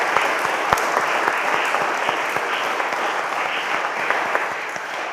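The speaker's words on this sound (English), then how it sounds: "please, a round of applause for Kate Steer" Steady applause from an audience at an annual parish church meeting, a dense patter of clapping with a few sharper nearby claps, holding evenly throughout.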